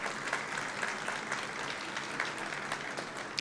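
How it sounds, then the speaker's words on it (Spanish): Steady applause from a lecture audience for guests of honour, a dense even wash of many hands clapping, fairly close and sustained without a break. "a nuestros invitados de honor, también un aplauso"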